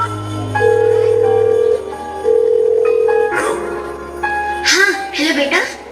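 A telephone call ringing on the line: two long, steady ring tones separated by a short pause, followed by people talking.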